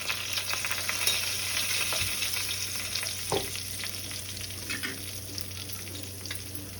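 Curry leaves and turmeric tempering in hot oil for a ripe red chilli chutney, giving a steady close sizzle and crackle throughout, with a couple of brief knocks and no talking.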